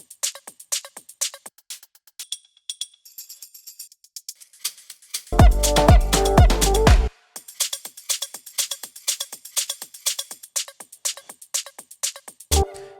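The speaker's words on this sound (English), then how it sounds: "So let's start with the top loop." A busy, crisp Latin house percussion top loop of ticking hats and shaker-like hits in a steady dance groove, briefly joined by a heavy kick and bass section midway.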